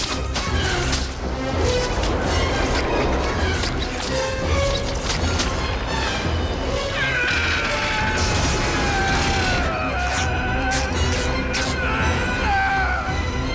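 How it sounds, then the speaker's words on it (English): Glass shattering and train steel caving inward in a Spider-Man train scene, a dense, sustained wash of crashing, grinding metal and creaking strain with scattered sharp breaks throughout, loud and close. "The light bulbs going out, the glass shattering, the train steel caving inwards, Peter's suit ripping, the strain on Tobey's"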